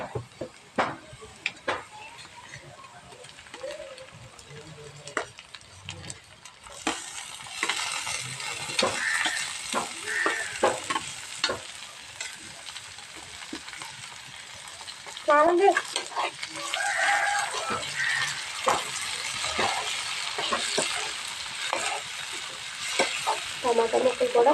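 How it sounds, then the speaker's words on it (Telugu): Onion and tomato pieces fry in a pan while a bitter gourd curry is being made, with a steady sizzle that grows louder partway through and frequent stirring scrapes and taps. A voice talks faintly in places. "టమాటా ముక్కలు కూడా ఫ్రై అయిపోవాలండి మనకి."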